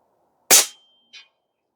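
Airmaks Krait Pro L .30 caliber air rifle firing outdoors: one sharp, loud crack close by that decays quickly, followed about half a second later by a faint, short distant impact, with no talking.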